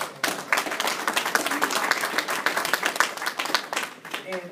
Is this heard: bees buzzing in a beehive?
no